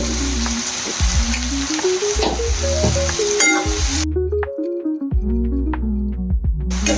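Chopped onion frying with a little salt until brown, a continuous sizzle close by, mixed with background music carrying melodic tones throughout and a brief drop-out near the end.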